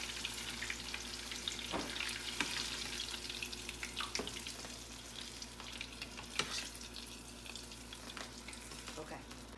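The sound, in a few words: deep frying in hot oil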